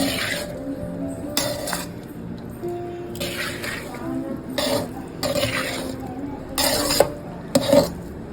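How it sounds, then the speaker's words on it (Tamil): Tamarind rice is stirred in a wide pan with a spoon, giving bursts of scraping and metallic clinks at irregular intervals, close by, with a brief cough or throat sound in between. "நல்லா கிளறியாச்சு புளி சாதம் ரெடி"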